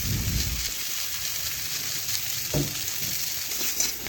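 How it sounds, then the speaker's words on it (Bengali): Pieces of eggplant frying in mustard oil left over from frying katla fish heads make a steady, close sizzle that crackles on without a break. "এখন ওই তেলেই দিয়ে দিচ্ছি কয়েক টুকরো আমি বেগুন।"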